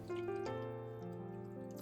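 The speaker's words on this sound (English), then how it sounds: "I add the water to the pot" Water trickles and drips into a pot of boiled taro, a soft watery patter close by over a faint steady background hum.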